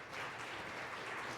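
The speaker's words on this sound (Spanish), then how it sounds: "les pido un aplauso para concluir" Steady, faint applause from an audience closing out a panel discussion on artificial intelligence, a brief, even wash of many hands clapping with no voices.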